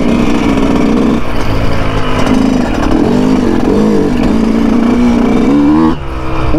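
A Yamaha YZ125 two-stroke dirt bike engine runs loud and close, its buzzing note rising and falling as the rider works the throttle, holding steady before dropping off near the end.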